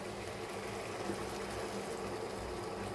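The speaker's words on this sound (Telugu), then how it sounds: "ఇలా ఉడికిపోయిన వెంటనే కూడా ఇప్పుడు పాలు పోసుకుందాము" Milk poured into cooked ridge gourd curry in a pan, a faint steady liquid gush with soft bubbling running evenly throughout.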